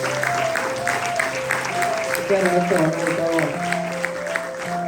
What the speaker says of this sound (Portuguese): Vamos aplaudir o Senhor.